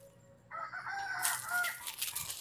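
A rooster crows once, fairly faint and close, a rising then sustained call lasting about two seconds against a quiet background.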